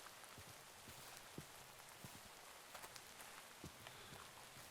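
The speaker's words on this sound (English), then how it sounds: "I hate that it's raining." Steady rain pattering in Minecraft, a soft continuous hiss of drops with occasional faint heavier taps, quiet and even throughout with no talking.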